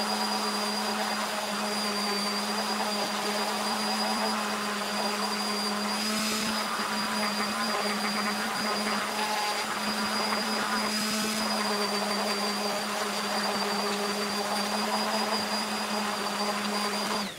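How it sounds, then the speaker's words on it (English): A continuous high-pitched motor whine with steady buzzing tones runs throughout as a random orbital sander grinds on wood, with brief surges in intensity. "the final sanding disc that we're using with our random orbital sander here"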